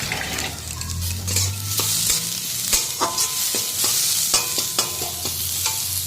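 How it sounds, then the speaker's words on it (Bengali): Red amaranth greens sizzle and fry with garlic in a little oil while a utensil stirs and scrapes the pan, giving steady close crackling with repeated sharp clinks throughout. "এটা ওখানে এখানে লাল শাকটা রান্না করছি রসুন সেতো করে দিয়ে দিলাম আর এখন তো একদম অল্প অল্প তেল দিয়ে রান্না করি"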